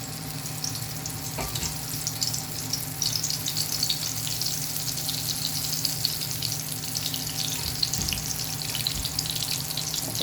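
Eggplant slices fry in a pan with a constant, even sizzle and crackle, moderately close, with a low steady hum beneath and no talking.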